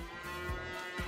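A cow lows once in Farming Simulator 22, a short steady moo with a low droning tone, close and moderate in level against a faint farm background, no voices.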